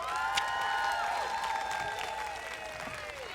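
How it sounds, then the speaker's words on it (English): A commencement audience applauds in a broad, steady wash of clapping, with a few cheering voices rising above it. "So once again, let's give her a round of applause."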